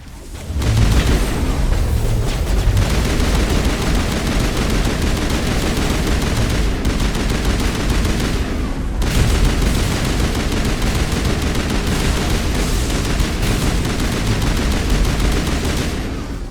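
Sustained heavy gunfire in a Mass Effect 1 Legendary Edition firefight at Peak 15: dense, continuous automatic weapon fire and impacts, loud and unbroken for the whole stretch, with only a brief dip partway through.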